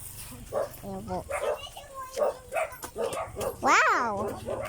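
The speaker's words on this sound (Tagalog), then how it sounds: "may mga aso dito." Dogs bark and yip on a farm in a string of short, close, uneven barks, ending in a longer whining howl.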